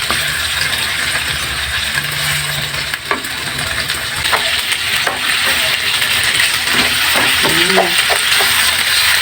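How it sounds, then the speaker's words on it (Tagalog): Chicken pieces stir-frying in a hot pan for chicken tikka masala, a continuous loud sizzle with scattered clinks and scrapes of a utensil stirring the meat. "Stir-fry. Hanggat sa mag-brown ng konti."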